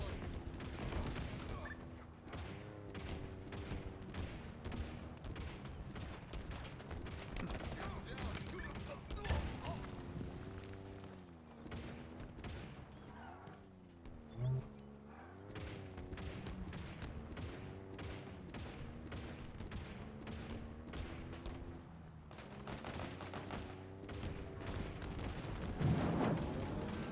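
Gunfire in the Halo Infinite multiplayer beta, bursts of shots and impacts running under a dense game soundtrack with shouted voices.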